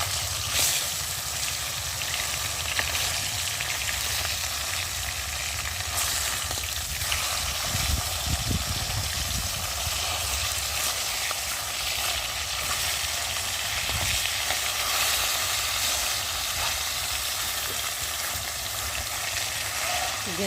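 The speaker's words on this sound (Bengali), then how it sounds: "এই তেলাপিয়া মাছ এখন আমি ভেজে নেব।" Pieces of whole tilapia fish fry in a pan of hot oil, sizzling with a steady, loud crackle that swells briefly as the fish are moved or turned.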